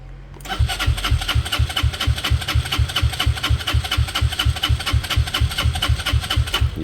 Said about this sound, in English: if I bought a bike and I was cranking every morning like that, it would drive me nuts